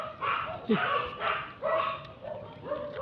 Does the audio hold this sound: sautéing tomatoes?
no